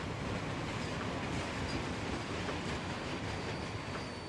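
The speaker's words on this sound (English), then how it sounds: "you can still hear it over the train going, like, full speed" A train in the RO-Scale model railway game runs at full speed, giving a steady, loud, unbroken rolling rumble and hiss that holds level for the whole stretch, with no voices.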